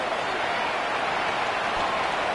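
Rain falls steadily during an outdoor football game involving the Falcons, an even, dense hiss that holds without a break, with no voices on top.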